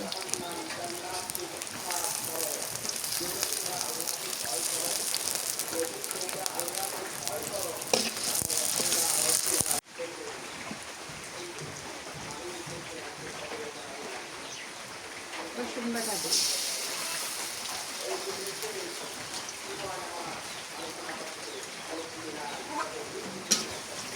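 Onion and green chilli fry in a pan with a steady broadband sizzle that drops briefly and then picks up again, while a voice talks over it throughout.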